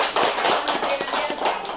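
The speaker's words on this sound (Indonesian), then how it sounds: "tepuk tangan dulu untuk itu semua" A roomful of listeners at an Indonesian talk breaks into dense applause, a loud, even wash of many hands clapping at once with no voices over it.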